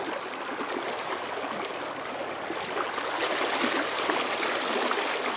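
A high river after heavy rain rushes in a steady, broadband wash of flowing water, close and continuous, swelling slightly louder toward the end.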